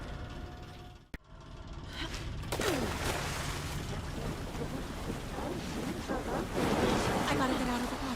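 Water sloshing and rushing waves in the video game Alan Wake 2, a steady, fairly loud wash of surf-like noise with a brief dropout near the start and swirling tones rising later.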